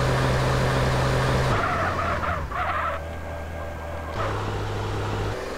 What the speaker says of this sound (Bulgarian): В гаража се мушкам тази колица.